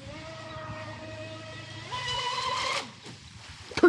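A UDIRC Arrow RC car whines and rises in pitch as it accelerates, its electric motor building to a loud, rising rush before dropping off abruptly, then a short sharp burst near the end.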